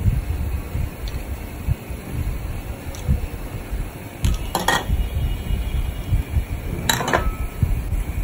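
Salt, pepper, lemon juice and other ingredients stirred together in a bowl, steady scraping and clinking of a utensil against the dish with occasional sharper taps, over a faint fan hum.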